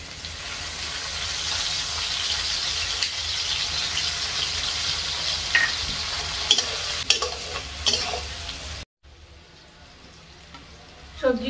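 Vegetables and soaked cashews stir-frying in a pan for fried rice, with a steady loud sizzle, scraping spatula strokes and brief squeals, a short break near the end before frying resumes.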